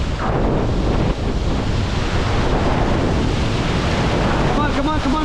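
River rapids at Rishikesh roar loud and continuous around a rafting crew, a dense wash of rushing whitewater close to the microphone with wind buffeting throughout.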